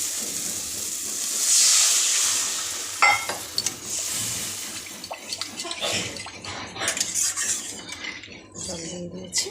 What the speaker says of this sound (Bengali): এখন এটার মধ্যে আমি জল দিয়ে দিব।